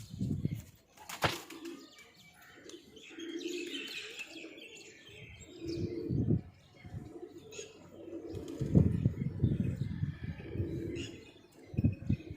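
Pigeons arriving near a rooftop, with soft coos, chirps and bursts of flapping wings among faint outdoor background noise.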